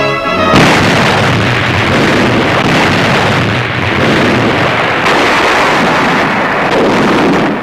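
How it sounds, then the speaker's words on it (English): The nine 16-inch guns of the 45,000-ton battleship Iowa fire a salvo on a testing cruise, producing a loud, sustained, rolling boom that fills the clip without any voice. "the Iowa's commander, Captain McCrae, orders her 9 16-inch guns to fire a mighty salvo"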